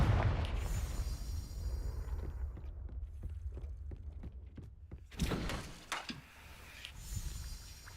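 Confringo blasting spell cast in Hogwarts Legacy, heard as a sequence of thumping blasts and impacts over a low rumble, with a sharper burst near the middle and a few more hits toward the end.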